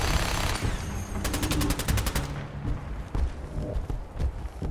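Rapid bursts of automatic gunfire in the video game Fallout 4, a quick rattling volley followed by scattered shots and impacts amid game sound effects.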